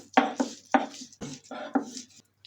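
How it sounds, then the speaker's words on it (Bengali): A handful of short, separate knocks and scrapes at close range as mashed jackfruit seeds with coriander leaves, onion, garlic and chili are ground together, each stroke distinct with brief gaps between, no talk. "এবার একটু বেটে নিই।"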